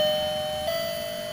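A wireless remote calling bell plays one of its selectable chime tones: a steady, clear electronic ring held through the whole moment, close and fairly loud, with no voices.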